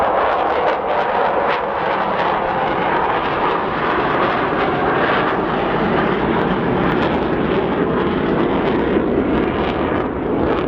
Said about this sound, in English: The one and only Avro Vulcan.